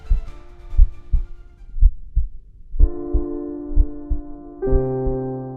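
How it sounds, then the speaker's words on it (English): Slow, heavy heartbeat thumps pound steadily and alone, each beat a deep double-like throb, with sustained synth tones swelling underneath and rising in steps. "you can already hear your heart pounding with the vigor of an ancient drum"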